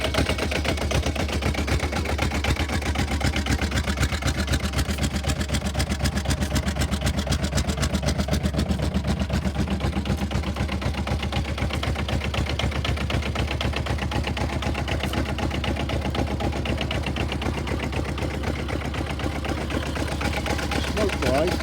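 A diesel-converted Honda Superdream motorcycle engine runs steadily and close by, with a loud, low, rapid chugging throughout that stays even in level and rhythm.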